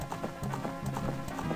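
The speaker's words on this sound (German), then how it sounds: "erstmal mein treues, braves Pferdchen Eponalein zu holen" The horse Epona gallops in Zelda: Ocarina of Time, a quick, steady clip-clop of hooves repeating in an even rhythm, fairly close, with faint game sound beneath.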